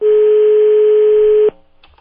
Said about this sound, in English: Sounds like an overseas ring.